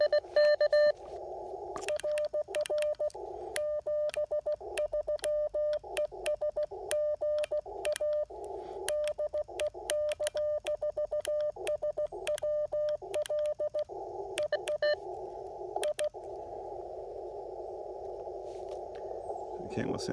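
Steady Morse code tones keyed on an Icom IC-705 radio, a clear sidetone beeping in irregular dots and dashes with brief gaps, ending in a continuous hiss of band noise.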